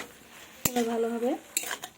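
A utensil scrapes and knocks in a pan as spinach is stirred with ground spice paste of dried chilli, ginger and cumin, a few close clanks around a brief ringing tone.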